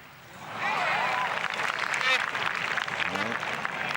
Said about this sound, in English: the crowd applaud because they're urging their man on